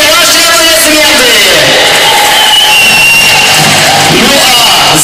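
A crowd at the Moscow Raceway podium applauds and cheers the race winner, Pierre Gasly, a loud, continuous wash of clapping and cheering with a faint engine-like hum underneath.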